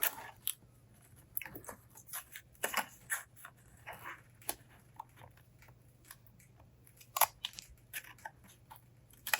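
Scissors snipping air carbon mesh for rod guide wraps, a series of short, crisp close cuts with brief pauses between them against a faint steady hum.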